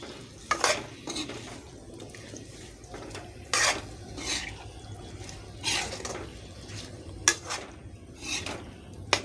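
Food mixture stirred in a frying pan, with soft sizzling under repeated scraping and clinking strokes at an uneven rhythm, close and moderately loud.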